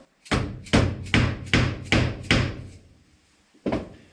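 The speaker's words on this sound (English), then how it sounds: "Give it a tap with a dead blow hammer" Six dull thuds in a steady rhythm, then a pause and one more, solid muffled dead blow hammer strikes on a metal FJ40-series door hinge being removed, close and fairly loud.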